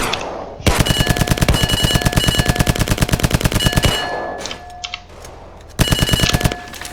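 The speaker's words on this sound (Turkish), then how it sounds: "Bayağı sıktım, bayağı sıktım." Rapid automatic gunfire crackles through a roleplay video game battle, with two long, loud bursts of fast, evenly spaced shots separated by a short pause filled with scattered distant pops.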